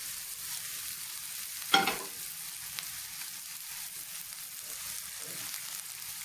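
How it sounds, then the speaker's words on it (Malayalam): Cooked rice is stir-fried in a pan over a high flame, giving a soft, even sizzle with one sharp clank of a spatula early on and faint scraping afterward. "ഇതിന് നന്നായി ഇളക്കി യോജിപ്പിക്കാം. ഹൈ ഫ്ലെയിമിൽ തന്നെ വെച്ചുകൊണ്ടാണ് നമ്മളിതെല്ലാം ചെയ്യുന്നത്"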